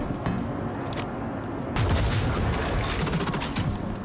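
Electron Bolt sniper rifle firing in Star Citizen against a heavily armored enemy: a dense, continuous crackle of gunfire and booms that swells louder partway through, with no talk over it.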